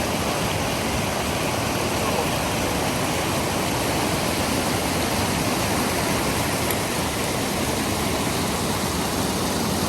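A raging waterfall below Mount Harrison in Idaho's Albion Mountains roars as a loud, constant broadband rush with no breaks, close and overwhelming for the whole stretch.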